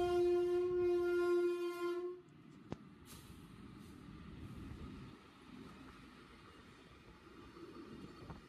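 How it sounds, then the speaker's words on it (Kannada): A goods train passes a railway level crossing, its horn blaring loudly for about two seconds before the rumbling wagons roll past in a steady, lower clatter. "ನೋಡಿ ಗೂಡ್ಸ್ ಹೋಯ್ತು."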